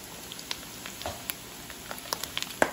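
Garlic sautéing in a pan of toasted shrimp paste for eggplant binagoongan, a quiet steady sizzle scattered with small sharp pops and crackles, close by with no talking.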